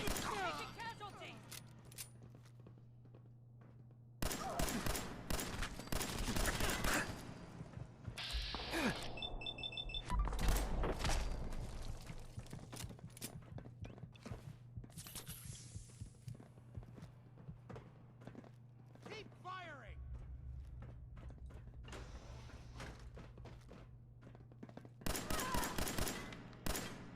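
Gunfight with gunners in the video game Fallout 4, with bursts of rapid gunfire and sharp shots scattered across the clip amid footsteps and game noise, some bursts loud and close, others quieter.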